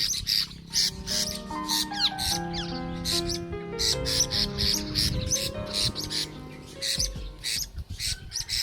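Pet birds squawk in a busy cluster of repeated harsh calls mixed with brief chirps, close and fairly loud, with no talking.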